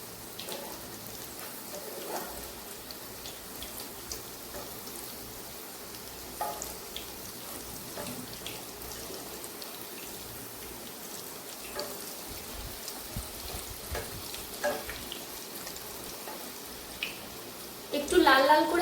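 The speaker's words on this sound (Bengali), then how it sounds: "একটু লাল লাল করে ভাজবো কড়া করে, তাতে করে বেশি ক্রিস্পি হবে" Puffed-rice pakora fry in hot oil until crisp, giving a steady, faint crackling sizzle with scattered pops throughout, and a louder burst of bubbling near the end.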